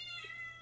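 A pet cat meows once indoors, a short clear cry sitting over a steady low background hum.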